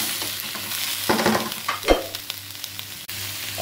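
Shrimp is stirred into a hot pan with garlic, sizzling loudly as a utensil scrapes and clicks against the metal in brief bursts, with no talking.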